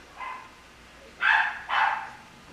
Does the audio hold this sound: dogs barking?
yes